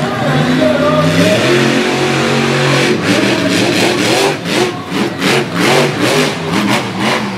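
A monster truck engine roars loud and close at an outdoor show in Little Valley, New York, holding a steady high rev before breaking into throttle pulses and rises as the truck launches over a bus.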